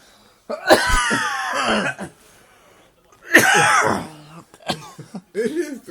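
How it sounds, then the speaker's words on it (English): Someone coughs and chokes in two harsh, rasping bursts separated by a short pause, followed by a few fainter hacking sounds, close to the listener and without talk. "Look at me choking."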